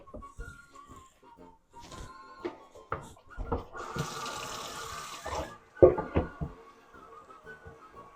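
A sink tap runs water while fresh broccoli is washed for processing, a steady splashing hiss with clattering handling noises and knocks around it, strongest in the middle stretch.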